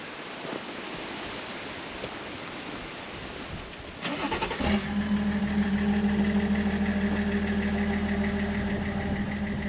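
A Land Rover Defender 130 engine cranks and fires after a few seconds of quiet background, then settles into a steady, slightly rough idle that carries on close by until the end.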